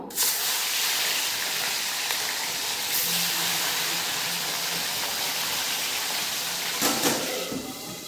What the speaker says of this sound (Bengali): তেল গরম হয়ে গেছে, মাছগুলো ছেড়ে দেবো।